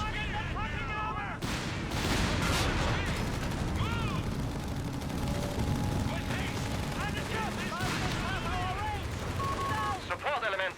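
Rapid gunfire and heavy explosive booms fill a Company of Heroes 3 battle, loud and continuous throughout, with radio-style unit voice lines chattering over the combat.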